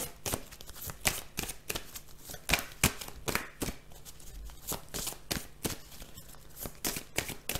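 Tarot cards are shuffled close by in a quick run of crisp riffling bursts and soft slaps, repeating in an uneven rhythm throughout.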